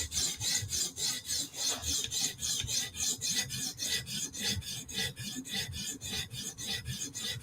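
A knife blade is sharpened on a 150 grit stone at about 16.5 degrees to reprofile a repaired edge. Steady, rhythmic rasping strokes repeat back and forth at an even pace, close and fairly loud, with no voices.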